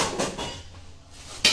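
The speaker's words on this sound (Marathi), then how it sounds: "याला सगळ्याला झाकण लावू आणि हे झाकण जुले आपण जागेवर ठेवून देऊ." A metal lid goes onto a kadai of paneer bhurji in a home kitchen: soft cookware knocks, then a sharp clatter of metal on metal at the end.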